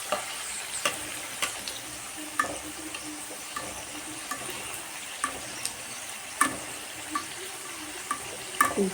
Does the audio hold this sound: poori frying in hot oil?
yes